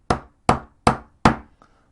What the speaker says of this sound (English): tap it down with a hammer